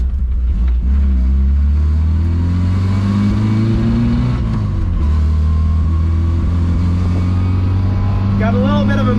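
A Saab 96 car drives along a country road, its engine droning loud and close throughout, pitch climbing and easing as it shifts up into fourth gear, with a voice talking over the engine noise.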